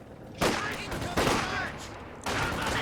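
Machine gun fire in a Company of Heroes 2 battle, Axis versus Allies: three dense bursts of rapid gunfire, loud and close, with brief dips between them.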